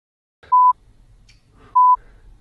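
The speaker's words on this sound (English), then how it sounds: "Oh, it's the phone!" Two short, clear telephone dialing tones, each about a quarter second, sound alone about a second apart over a faint, quiet background.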